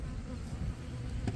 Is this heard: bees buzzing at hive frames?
yes